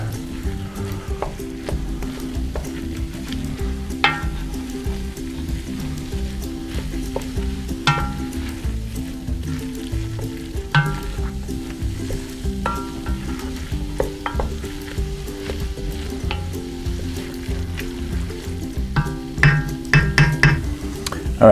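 Tomato paste frying in a pot for chili, a steady close sizzle under repeated stirring scrapes and occasional clinks of the spoon against the pot, no talk.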